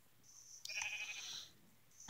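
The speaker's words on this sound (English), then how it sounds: "But I do have a color-changing sheep." Bleating of a color-changing sheep in the video game Minecraft, a single short synthetic bleat over a faint background hum, followed by a brief click near the end.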